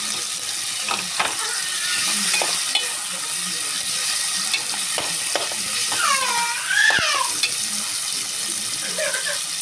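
Tomato sautés in a pan with a steady close sizzle and intermittent spoon scrapes, and a few squeaky, gliding utensil noises surface midway.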